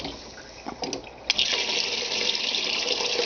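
Water gushing from a tap into a pot for clarifying fat for soapmaking, beginning with a few splashes and then a steady, loud pour that fills most of the moment.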